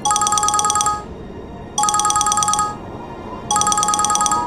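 A phone rings with an incoming call from a friend, its electronic ringtone sounding in three loud, bright bursts separated by short pauses over faint background noise.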